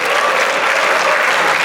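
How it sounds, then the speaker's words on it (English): Sustained audience applause fills a host auditorium after a senior students' debate competition in Jeddah, a dense, steady clatter of many hands at full strength throughout with no break. "So big round of applause to Iisj."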